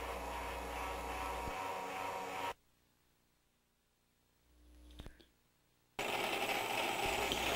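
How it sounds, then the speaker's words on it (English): An EM2000 dental sharpening machine runs loudly as a Gracey curette is sharpened on its fine Arkansas disc, the whirring broken by a quiet gap with a couple of brief clicks before the steady grinding hum returns. "Here we are sharpening the Gracie curette on a fine Arkansas disc"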